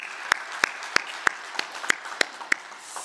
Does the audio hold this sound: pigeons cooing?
no